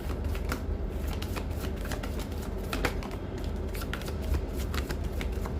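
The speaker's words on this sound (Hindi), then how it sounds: "One more shuffle and last shuffle angels." A deck of tarot cards being shuffled by hand, a steady run of crisp riffling and flicking card sounds close up, continuing without pause and with no speech.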